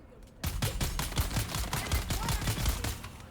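SMG fire in Dune Awakening cracks out as a rapid, evenly spaced stream of loud shots after a brief quiet start, sustained for about three seconds.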